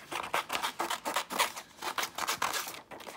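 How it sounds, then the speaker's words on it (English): Paper being fussy cut into a small saddle shape with scissors, heard as quick, close, quiet snips and soft paper rustles in an irregular rhythm, with no talking. "Let's fussy cut a saddle."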